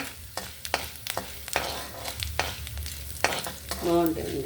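Dried red chillies, mustard seeds, fenugreek and cumin sizzle and crackle in hot oil as a utensil scrapes and stirs the pan in several sharp strokes, close and fairly loud.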